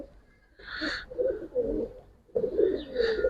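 Giribaz and coloured pigeons coo up close in a loft, a few throaty rolling calls in two bursts separated by a short pause; no one speaks.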